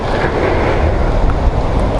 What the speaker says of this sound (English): it's been coming through in gusts, and it's always windier at the top of a mountain